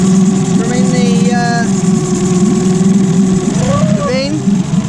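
An outboard boat engine idles steadily while being flushed with fresh water drawn from a bin, a loud continuous motor drone with someone talking over it.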